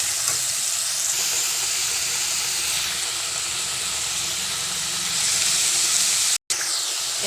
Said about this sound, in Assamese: ইয়াতে মই নিমখ হালধি দি ভালকৈ এতিয়া ভাজি লম